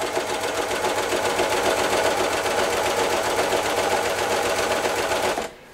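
A Baby Lock Desire3 combination machine runs a steady, fast, loud stitch with an even mechanical whir, stopping abruptly near the end.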